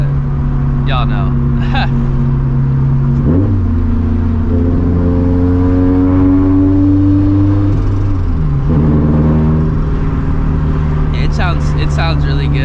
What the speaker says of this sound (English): just driving it around right now, the blow-off sound is like a lot louder